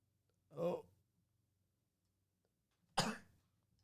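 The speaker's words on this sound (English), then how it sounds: "It's a sneeze." Two short explosive sneezes about two seconds apart, fairly close and loud, with quiet between them.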